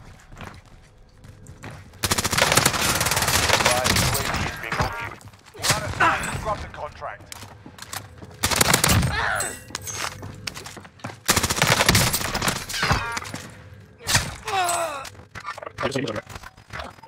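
Video game gunfire on Rebirth Island, sharp bursts of automatic shots and single cracks recurring loudly across the stretch, with players talking and shouting over the shooting.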